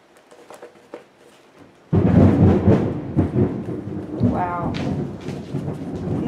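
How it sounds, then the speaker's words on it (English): Thunder rumbles during a storm, breaking in suddenly as a loud, deep, sustained roll that swells and lingers for several seconds, following quieter handling noises and faint talk. "I don't know if y'all can hear that or not, but we got thunder boomers going on."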